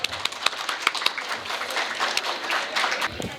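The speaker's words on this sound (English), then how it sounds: "Let's give him a round of applause." A small audience at a Hispanic Heritage celebration applauds a speaker who has just been introduced, giving a short burst of scattered, moderately loud clapping heard alone.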